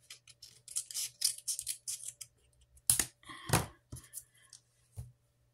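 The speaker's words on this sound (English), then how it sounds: "you're just going to cut little ear pieces out of it" Scissors snipping paper into small ear pieces, a quick run of crisp close cuts followed by a few separate louder snips with short pauses between.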